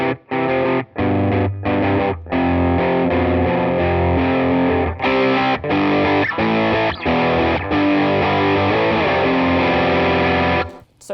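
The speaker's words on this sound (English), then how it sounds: "the next stage up for me in terms of the next level of distortion with like a tiny boost" An electric guitar runs through an OCD distortion pedal with a slight boost, giving loud, thick, sustained distorted chords that ring almost without pause, with brief gaps between strums and no voices.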